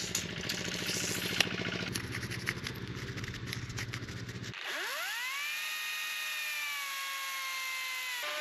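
A chainsaw cutting wood at an off-grid build site in Portugal, starting with a loud, busy rasping cut and then dropping to a steady engine tone that slowly falls in pitch, close and continuous.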